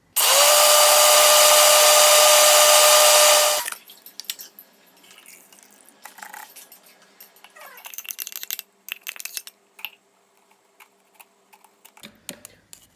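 A blender whirs loudly and continuously for about four seconds as it blends rice with water, then stops abruptly, followed by faint clicks, clatter and handling noises.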